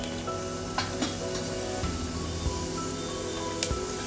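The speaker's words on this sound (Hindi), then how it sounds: "जीरा और सौंफ अच्छी तरह से क्रैकल हो रहे हैं।" Cumin and fennel seeds crackle in hot oil with bay leaf, cloves and cinnamon, giving a close, steady sizzle dotted with sharp pops and occasional clinks of a spoon.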